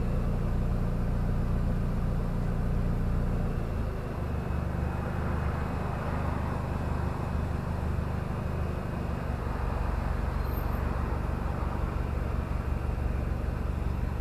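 A Toyota MR2 fitted with a big turbo idles steadily at a settled low idle, a loud, close, continuous engine rumble with a slight shift in tone partway through.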